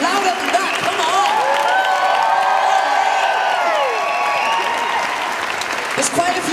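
A crowd claps and cheers for the South Shields Serenity Singers choir, a sustained wash of applause with scattered whoops and shouted voices riding on top, loud and continuous.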